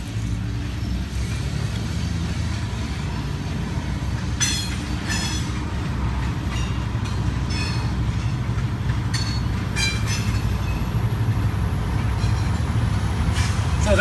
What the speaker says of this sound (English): There's a train right beside me.